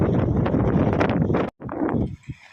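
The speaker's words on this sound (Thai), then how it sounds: "กระพือ ลมแรงมากดูสิ ดูสิ" Strong wind buffets and flaps tent fabric at a campsite at Chet Khot Pong Kon Sao in Saraburi, making loud, close, rough roaring gusts that cut out abruptly, then return before fading into scattered flutters.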